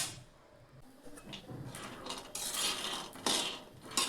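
Peanuts dry-roasting in a pan over a low gas flame for sesame-jaggery laddoos, stirred so they rattle and scrape against the metal in soft uneven bursts, quiet at first and growing louder toward the end.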